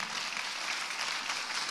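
A church congregation at a Sunday third service claps together in a brief, steady wash of applause, faint and somewhat distant, with no voices over it.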